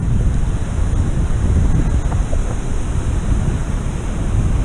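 Wind gusts over the ocean, and surf breaks in six- to eight-foot sets. A dense, continuous roar of wind and waves fills the whole stretch, heavy with wind buffeting on the microphone, and no one speaks.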